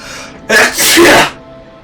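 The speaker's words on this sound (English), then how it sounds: "excuse me, I gotta sneeze" A single loud, close sneeze bursts out in one sharp breathy blast, with a brief quieter lead-in and fading afterward, alone without talk.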